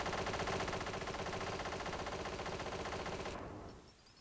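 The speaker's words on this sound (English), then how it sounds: "Someone is shooting my screen." Machine gun fire rakes the screen in the PC game Desktop Destroyer, a loud continuous rapid burst of shots that ends abruptly near the close, leaving faint residual noise.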